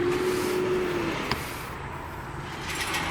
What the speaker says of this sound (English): As this loud truck drives by